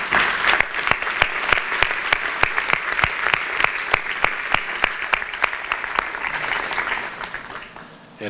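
A church congregation applauds in a loud, sustained burst of many hands, dense and even throughout, with a steady beat of sharper claps running through it before it fades at the end.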